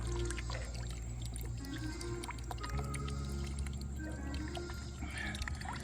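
Apple cider vinegar being poured from a jar over Wagyu beef ribs, a continuous splashing liquid pour with dripping and sloshing, close and fairly loud, with no voices.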